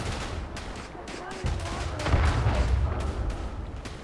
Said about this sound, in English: My mortar will impact soon.